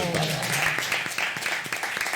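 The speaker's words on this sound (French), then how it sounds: "Je crois qu'on peut applaudir." A French television studio audience applauds on a comedy show, a dense wash of clapping that stays steady throughout, with a voice briefly audible at the start.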